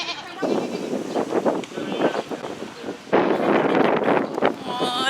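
Goats on a farm bleat in several close, overlapping cries amid rustling and gusts of wind hitting the microphone.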